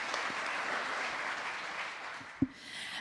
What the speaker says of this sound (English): I think it's worth an applause